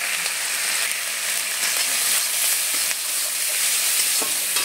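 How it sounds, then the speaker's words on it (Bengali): Ginger, cumin and coriander paste with salt and turmeric sizzling and being stirred in hot oil, a loud, dense, unbroken frying hiss close up with faint scraping ticks and no speech. "এবারে মশলাটাকে ভালোভাবে কষিয়ে নিই"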